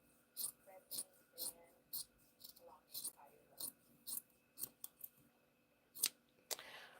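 Scissors snip through prom dress fabric in a run of about a dozen sharp, close cuts at an uneven rhythm, with quiet pauses and faint breathing between them.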